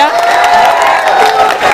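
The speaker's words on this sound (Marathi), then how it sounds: "मग टाळ्या उद्या जोरदार यांच्यासाठी." A classroom audience at a competitive exam quiz session bursts into loud, close clapping mixed with cheers and excited shouting, a continuous roar that holds steady for the whole short stretch.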